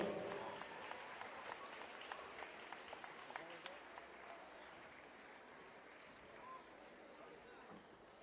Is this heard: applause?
yes